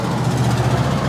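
A vehicle engine with an exhaust leak idles nearby, a loud, steady low rumble with a rough, puffing drone and no pause.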